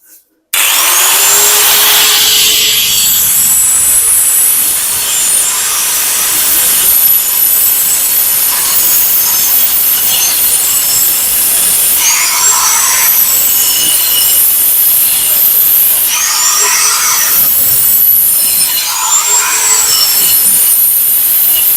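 A power tool cuts through a floor drain grate, a loud, continuous, shrill grinding whine that runs steadily for about twenty seconds, swelling and easing slightly as the cut progresses.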